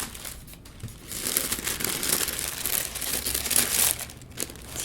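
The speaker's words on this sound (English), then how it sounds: "The wrapping paper." Wrapping paper from a Puma x Balmain sneaker box crinkles and rustles in continuous close handling, with no one speaking.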